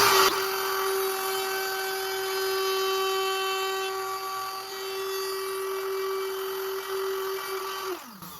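A power tool cuts an arc relief groove in wood for a dado on a woodworking sled, giving a steady, close, high whine that holds level for about eight seconds and then winds down.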